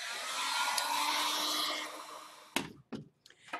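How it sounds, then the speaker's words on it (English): A heat gun blows a steady, loud, close hissing roar over foam carved with a wood texture, then cuts off and is followed by a few sharp knocks and handling sounds. "We'll hit it with our heat gun."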